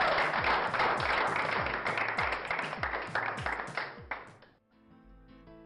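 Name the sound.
audience applause for the crowned winner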